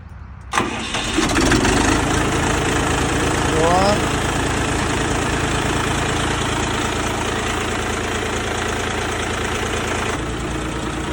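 A small tractor engine cranks to life and keeps running with a steady, rumbling chug nearby for several seconds.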